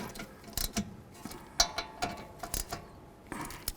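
A ratchet wrench runs caliper bracket bolts down to the bottom on the rear brake of a 2007–2014 Ford Edge. Close mechanical clicking and clunking comes in short, uneven bursts with brief pauses between them.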